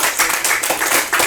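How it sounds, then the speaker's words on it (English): A small group of people, probably schoolchildren, claps briefly in rhythmic bursts, several close hand claps in quick succession, moderately loud and without talk. "So we are clapping for Burkina"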